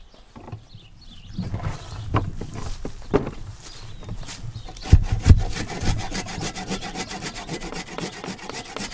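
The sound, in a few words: sawing off excess wood from splitting maul handle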